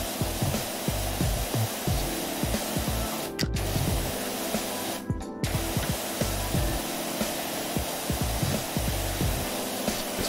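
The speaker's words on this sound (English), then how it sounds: "give it a light sort of spray" A pressure washer in PowerWash Simulator sprays with a steady broadband hiss and a rhythmic pulsing drone, continuous throughout, with two brief dropouts where the spray pauses.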